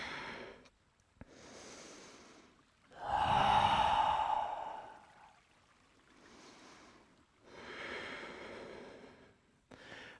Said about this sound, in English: Breathe steady.